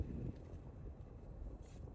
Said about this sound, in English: It's also pretty windy